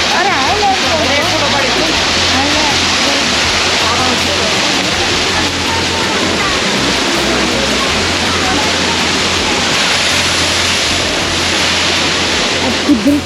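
A waterfall on the Kedarnath Yatra pilgrimage route roars loud and steady throughout, with a person talking over the constant rushing water.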